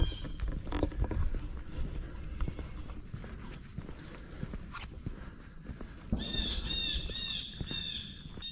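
Harsh, repeated blue jay squawks ring out loud in the latter part, following outdoor crunching footsteps and rustling on a road in French Creek.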